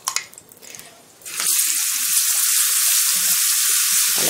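Minced garlic drops into hot ghee after a short quiet moment and bursts into a loud, continuous close sizzle that holds steady to the end.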